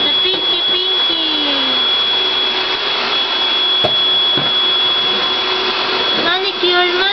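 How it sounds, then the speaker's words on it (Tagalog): A vacuum cleaner runs steadily nearby with a constant high whine and whooshing roar throughout, broken by a couple of sharp knocks, while people talk over it. "that's the vacuum cleaner"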